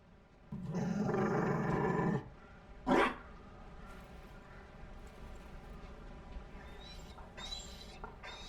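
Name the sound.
Mabari dog growling in the video game Dragon Age: Inquisition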